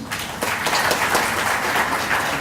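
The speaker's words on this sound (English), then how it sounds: "request you all to welcome with a loud applause" Loud, steady applause from a lecture meeting audience welcoming the speaker, a continuous dense patter of many hands clapping throughout the brief stretch.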